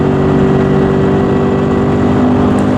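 Toyota GT86 engine on a track day, holding a loud, steady drone with strong low harmonics as the car powers out of a corner, with no change in pitch across the short stretch.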